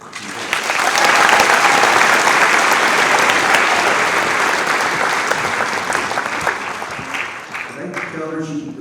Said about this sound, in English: A warm round of applause for Nikki.